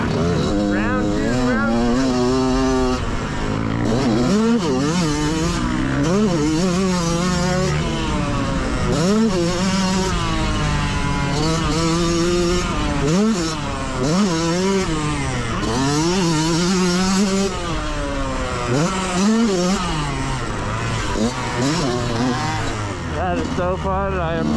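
A Yamaha YZ125 two-stroke dirt bike rips around a South Carolina motocross track at Travelers Rest MX, its loud, close engine repeatedly revving up and down through gears with wailing pitch sweeps throughout.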